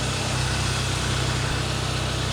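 A 2025 Mercedes-AMG GLC 63 S E Performance four-cylinder 2.0-liter turbo engine with a resonator delete idles steadily and close, a low throbbing pulse holding even throughout with no talk.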